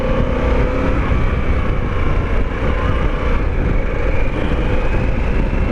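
A 2021 Harley-Davidson Pan America adventure motorcycle downshifting on the road, a loud continuous engine drone with wind rush heard from the rider's position, engine note shifting slightly as the gear changes.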